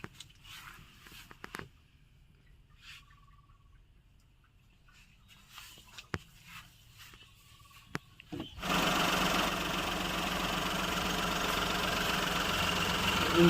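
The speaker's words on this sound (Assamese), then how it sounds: "ইঞ্জিনৰ সাউন্ডটো চাওক" A Maruti Alto K10 petrol car idles close up, a steady, even engine hum that starts abruptly partway through after a quiet stretch of faint background sounds.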